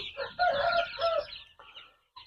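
Roosters and hens on a poultry farm crow and cluck nearby, a loud cock-a-doodle call followed by softer clucking that fades out.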